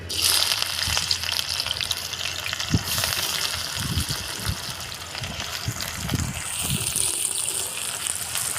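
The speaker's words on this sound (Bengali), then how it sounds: "ঝিরি ঝিরি করে পেঁয়াজ কাটা ছিল দিয়ে দেবো" Thinly sliced onions go into hot oil already tempered with bay leaf and dried red chilli, giving a continuous close sizzle with a few soft stirring knocks and no speech.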